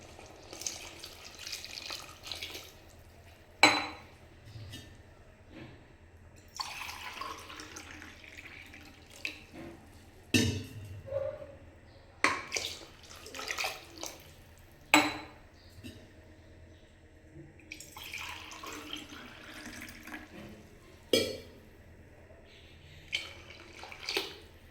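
Water poured from a glass into a cooking pot for biryani rice, several separate pours with splashing and clinks of metal utensils between them, close by with no talk.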